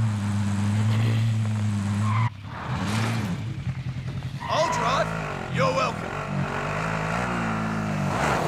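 In the Warzone video game a car engine revs and its tires squeal in loud skids, with gunfire-like bursts and other game sounds. Voices talk over it.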